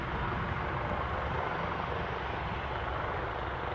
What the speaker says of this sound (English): Here's our Airbus 175.